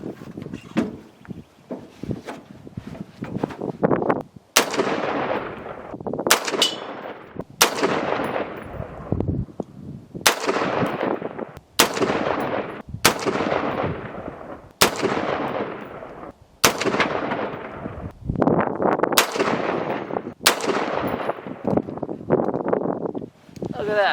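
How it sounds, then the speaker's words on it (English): Palmetto State Armory PSAR-15 rifle emptying a full magazine outdoors in hill country, about a dozen loud, sharp shots spaced a second or two apart, each with a long echoing tail. "Look at that, shot through the whole mag."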